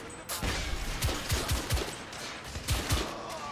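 Gunshots in the video game The Order: 1886, several sharp booming reports in an irregular sequence with echoing tails, loud and close, no talk.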